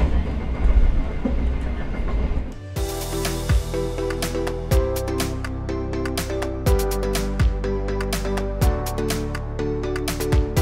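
The Argo Muria train, departing Pemalang station, runs along the track with a rhythmic, loud clickety-clack of wheels over rail joints after a rumbling start, repeating evenly throughout.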